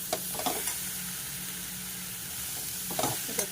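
Eggplant fries with garlic in a pan, giving a steady, close sizzle with a few soft stirring clinks and scrapes now and then. No voices.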